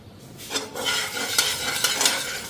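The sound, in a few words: cabbage put into a hot pan to cook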